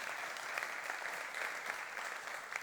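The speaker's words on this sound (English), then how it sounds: "So give a round of applause to John" Audience applause for speaker John Eastwood at a business talk, a steady, dense wash of clapping that holds evenly through the whole stretch at a moderate, slightly distant level.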